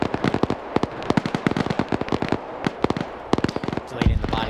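Mortar fire in a military video game: a rapid, dense volley of sharp explosive bursts and cracks, loud and close, continuing through nearly the whole stretch before a lower rumbling thump at the end.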